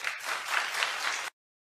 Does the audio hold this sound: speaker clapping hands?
yes